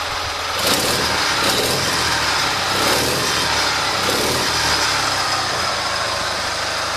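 An engine fitted with a restored K-37 carburetor runs loud and close with its ignition timing set slightly advanced, giving a steady, continuous drone with mild swells and no talking.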